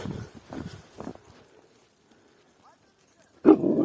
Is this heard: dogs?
yes